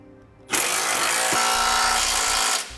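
An impact or power tool with a 3/4 inch socket snugs down 1/2 inch bolts on a Curt trailer hitch on a 2015 Chevrolet Express van, one loud continuous whirring burst of about two seconds close by.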